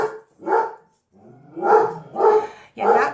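A dog barks five times close by, short gruff woofs spaced about half a second apart, some slightly yelping.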